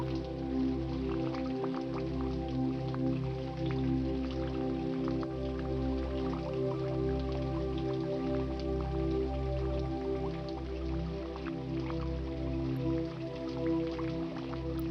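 Steady rain falls with scattered drips and droplets on surfaces, a soft continuous patter over a low droning hum behind a guided meditation, unbroken throughout.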